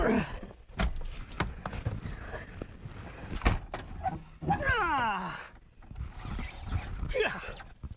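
Keys jangle for an old Toyota Land Cruiser being started after sitting for years, a few metallic rattles mixed with car door and mechanism clatter, with people talking nearby.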